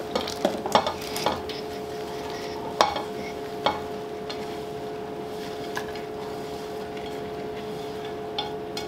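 Leeks frying in oil inside a Cookeo multicooker, a steady soft sizzle with a few sharp clinks and stirring scrapes near the start, fairly quiet and continuous.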